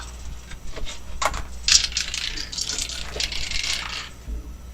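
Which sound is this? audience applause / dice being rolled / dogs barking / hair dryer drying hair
dice being rolled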